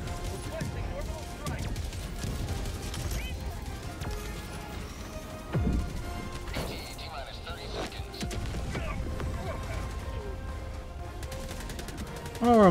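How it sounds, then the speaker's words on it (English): Gunfire and grenade blasts in the video game Helldivers 2: bursts of rapid shots and sharp impacts over a busy, dense battle mix, with a voice talking through much of it. "Throwing grenades like crazy."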